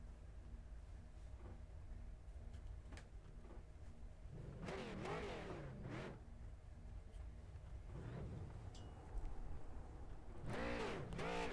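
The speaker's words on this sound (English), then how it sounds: "Everyone looks like they're going to be all doing some burnouts together." Race cars rev and spin up in a sim racing game as drivers do burnouts together, with rising engine whines in separate bursts at a moderate distance and no talking.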